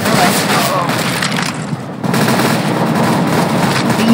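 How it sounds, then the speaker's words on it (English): Dense, continuous gunfire from Counter-Strike: Global Offensive rattles on for several seconds in rapid bursts, loud and close, with a brief lull midway. "Keep on shooting at my team."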